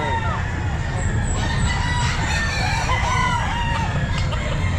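Kelso ball stag gamefowl at a busy pet market, several roosters crowing and clucking over dense crowd chatter, the calls rising repeatedly through constant background noise.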